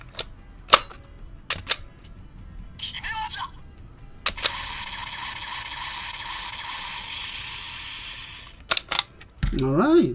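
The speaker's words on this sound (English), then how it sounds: "Okay, same explosion sound." Gashat capsule toy sound unit playing an explosion effect: a sustained electronic burst lasting several seconds between sharp plastic clicks and button presses, with brief speech at the end.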